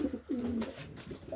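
A racing pigeon coos close by in the loft after a club race, giving a few soft, low, throaty coos with short pauses.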